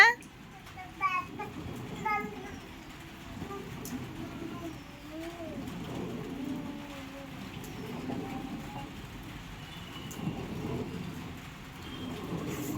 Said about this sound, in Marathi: पाऊस येत आहे भरपूर